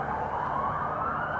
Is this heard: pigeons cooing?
no